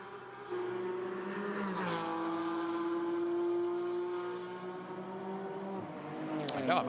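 A GT4 race car goes through the turn 13 hairpin at Jeddah with a sustained engine drone that holds and shifts in pitch. It opens with a downshift blip and ends with a sharp rise as it accelerates, heard from a distance.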